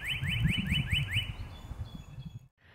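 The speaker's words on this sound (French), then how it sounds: "Le cardinal marque son territoire, s'époumonne à la cime des arbres pour chasser les autres mâles." A male northern cardinal sings from a treetop in spring, giving about six quick clear whistled slurs in a row before falling silent, heard over a low background rumble.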